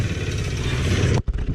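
Taotao 110cc motorcycle engine running close by, a steady loud buzzing drone with a brief dip near the end before the engine picks back up.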